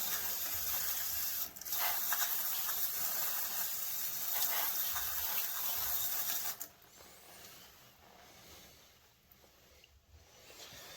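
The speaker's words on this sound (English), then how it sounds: "So I just hit that with a little bit of brake cleans." A hissing burst of brake cleaner sprays onto a Honda Foreman ATV part, loud and steady for several seconds with a short break, then cutting off, followed by quieter drips and rustling.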